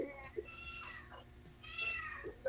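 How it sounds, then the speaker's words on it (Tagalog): A cat meows twice, each call drawn out and rising and falling, fairly quiet against a soft background hum. "May pusa."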